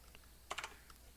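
A quick flurry of computer keyboard keystrokes, typing a short command on a Windows PC, comes as a tight cluster of four or five close clicks in the middle, with a few fainter taps around them.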